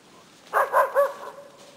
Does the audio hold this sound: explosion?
no